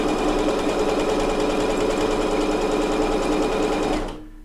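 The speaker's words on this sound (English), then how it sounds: "this one, however, is a triple stitch serpentine, so it gives a really heavy effect" A Bernette B79 sewing machine stitches a heavy triple-stitch serpentine pattern, with a loud, fast, steady mechanical chatter running continuously for about four seconds before it stops and leaves near silence.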